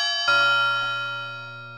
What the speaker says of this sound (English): in there was a usable doorbell sound effect